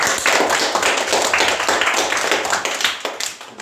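Middle school students clap for a group after its project presentation at a school showcase, a dense, steady burst of many hands in a room that thins out toward the end.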